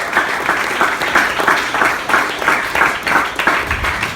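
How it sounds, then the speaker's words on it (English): A crowd at an Awesome Pittsburgh idea pitch contest gives a loud round of applause. Many hands clap in a thick, continuous burst that holds steady for about four seconds. "How about a round of applause for Ian?"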